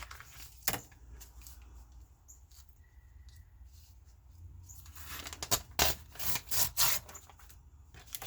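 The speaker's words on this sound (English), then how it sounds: "let's just tear us a piece of graph paper" A piece of graph paper being torn by hand at a craft table, quiet scraping followed by several sharp, close ripping bursts.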